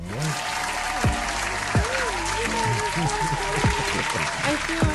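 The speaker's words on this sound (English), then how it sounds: "Let's clap it up again for Missouri." A studio audience at a call-in morning show claps in a sustained burst of applause that carries through the whole stretch, with a voice talking over it.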